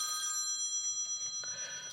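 A telephone rings with a steady, bright electronic trill that carries on for the full two seconds, heard alone with no talking.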